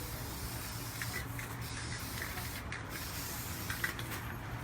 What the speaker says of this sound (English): So I don't want to like spray you guys out here.